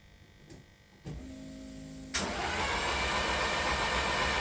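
A 2024 race engine cranks on its starter: quiet at first, then a steady mechanical whir begins about a second in. Just past two seconds it jumps to a loud, dense, continuous roar that holds to the end.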